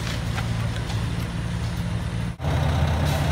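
A stuck concrete truck's engine drones steadily with a heavy low rumble at a shop construction site, briefly dipping before resuming at a loud, close, constant level.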